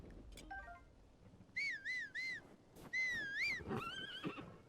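A horse in the video game Zelda: Tears of the Kingdom neighs several times, with high wavering whinnies in quick bursts, fairly faint and with no talk over them.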